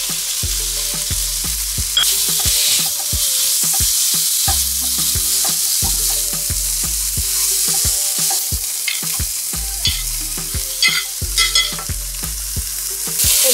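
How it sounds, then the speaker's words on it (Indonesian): Steady sizzling and frying in a hot pan, punctuated by repeated scraping and clanking of a spatula as sausage fried rice is stir-fried, with no talking. "Sekarang aku mau masak nasi gorengnya."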